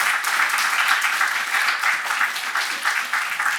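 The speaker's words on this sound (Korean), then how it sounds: "환영의 박수 잠깐만." A church congregation gives brief welcoming applause during a Sunday morning service, a steady, even patter of many hands clapping at moderate volume.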